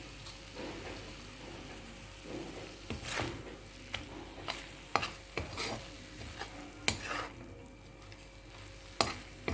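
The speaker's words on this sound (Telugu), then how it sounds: "కొత్తిమీర కూడా వేసి ఒక నిమిషం పాటు వేయించుదాం" Coriander leaves and sesame seeds fry in a pan with a soft continuous sizzle, broken by repeated spatula scrapes and taps that grow more frequent toward the end, close but quiet.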